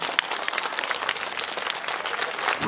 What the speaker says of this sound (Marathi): अहो कार्यक्रम आवडत असेल तर वर हातून टाळ्या वाजवर.